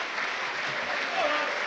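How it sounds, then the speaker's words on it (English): Home fans applauding at half-time of a Gateshead v Dorking Wanderers football match, with steady, dense clapping from a large crowd filling the stadium. "the home fans may be clapping at half-time"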